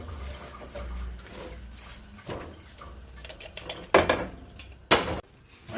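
A lid clanks onto a metal pot of cooking pepper shrimp, with a few sharp knocks and rattles over a low sizzle and scraping in a home kitchen.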